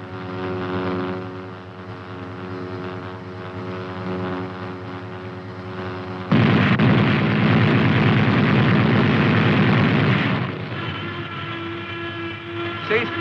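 A .50 caliber machine gun fires from an M551 armored reconnaissance/airborne assault vehicle: a dense, loud burst lasting about four seconds cuts over the steady droning hum of the vehicle's engine, which carries on after the burst ends.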